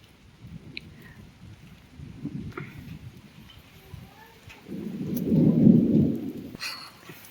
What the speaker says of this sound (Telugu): వర్షం పడితే మా ఊరు చూసారా ఎంత బాగుందో.